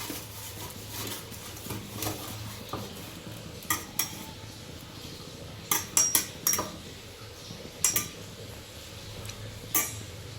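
White oil being smeared around a metal plate by hand: quiet rubbing with scattered sharp metallic clinks and taps, close and fairly faint, no talking.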